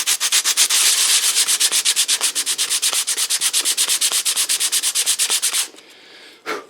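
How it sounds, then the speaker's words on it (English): 100-grit sandpaper wrapped on a wooden dowel smooths a rough cutout in a shop, making loud, rapid back-and-forth rasping strokes in a steady rhythm for about five seconds before stopping. "I just took some 100 weight sandpaper on a piece of doweling"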